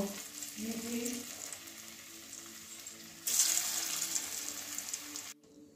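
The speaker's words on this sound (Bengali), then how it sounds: "এবারে বাকিগুলো ওইভাবেই ভেজে নেব।" Dhoka, Bengali lentil cakes, frying in a kadai of hot oil give a steady close sizzling hiss that swells louder partway through, then drops off sharply near the end, with faint voice-like murmurs early on.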